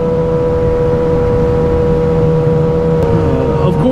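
Loud, close droning from a 2007 Yamaha R6 fitted with a full exhaust and Power Commander 5, holding steady revs before the pitch shifts slightly near the end.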